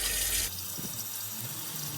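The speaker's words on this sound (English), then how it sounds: "Sure, that'll start spurting and spluttering as it clears line" Cold town water spurts from a caravan tap in an offroad caravan build, a loud steady rush with a sputtering burst in the first half-second as air clears the line, then continuous flow alone.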